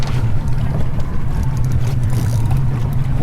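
Deep, steady rumble of a fishing boat's engine idling and being put in gear off Key Largo, loud and close, with a low droning hum and wash of water and wind, no talk.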